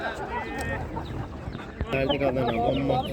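Chickens and roosters at a poultry market in Ganja cluck and squawk close by in repeated bursts, mixed with people talking among the stalls.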